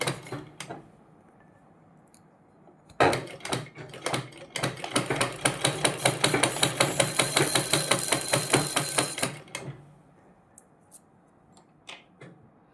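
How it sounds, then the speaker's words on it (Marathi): A domestic sewing machine winds thread onto its bobbin, a fast steady mechanical whirr with a rapid clicking pulse that runs for about six seconds after a sharp start, framed by quiet handling knocks. "सावकाश आपल्याला बॉबिन भरायची आहे।"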